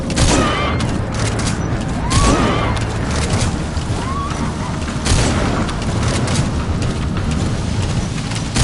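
Continuous gunfire and explosive booms from a video game firefight, dense and loud throughout with sharp bursts layered over a constant roar, plus voices under the action.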